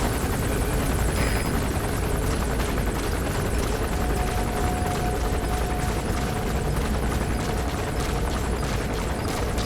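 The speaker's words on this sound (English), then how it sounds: "There's a chopper landing." A helicopter descends to land in the video game Metal Gear Solid V: The Phantom Pain, its rotor and engine a steady, loud, dense roar that fills the whole stretch without a break, amid battlefield din.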